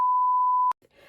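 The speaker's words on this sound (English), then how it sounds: "sorry, that's my phone" A mobile phone gives one clean notification beep, a steady pure tone lasting under a second that cuts off abruptly into quiet room noise.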